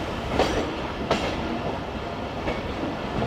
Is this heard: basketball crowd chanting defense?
no